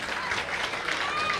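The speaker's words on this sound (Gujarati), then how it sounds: "ખૂબ ખૂબ જોરદાર તાળીઓ વગાડી દો" A seated audience at a community trust event claps in a dense, steady patter of applause that continues at a fairly even level for the whole short moment.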